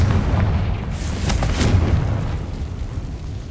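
A Confringo fire spell explodes in Hogwarts Legacy, one deep booming blast with a crackling burst that rolls away over a few seconds, loud and alone without talk.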